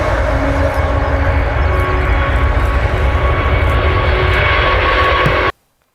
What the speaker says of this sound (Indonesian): Di sini ada pesawat terbang.